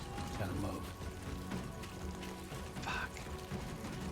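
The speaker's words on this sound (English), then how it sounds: "Uh-oh, we got rain. Not good." Steady rain hisses and patters in the video game Death Stranding 2, a constant wash of noise with a faint brighter splash in the middle and no break.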